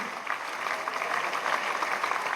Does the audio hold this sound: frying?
no